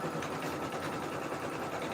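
An embroidery machine stitching out a design on a tee, giving a steady, fast mechanical whirring hum with a rapid needle rhythm, close and continuous.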